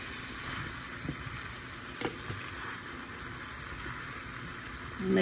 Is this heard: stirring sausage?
yes